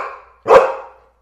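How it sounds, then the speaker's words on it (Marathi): A single dog bark rings out close and loud, with a quick sharp onset and a short fading tail, preceded by a softer trailing sound. "हा आहे कुत्रा. इंग्रजीमध्ये याला डॉग म्हणतात."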